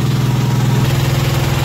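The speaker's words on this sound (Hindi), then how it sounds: "छोटा इंजन जो डीजल चलता है उसको हमने कन्वर्ट करके, इससे गैस सिलेंडर से कन्वर्ट करके सीधा इसको लगा दिया इंजन में" A small diesel engine converted to run on LPG from a gas cylinder drives a water pump in a farm field, giving a loud, steady idling drone with an even pulsing throb.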